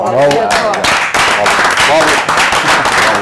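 Applause after a pétanque competition, with dense clapping from several people under loud, close voices calling out.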